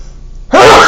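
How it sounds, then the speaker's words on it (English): One loud, abrupt sneeze, a sudden burst of breathy noise after a quiet moment, close to the microphone. "I feel a sneeze coming."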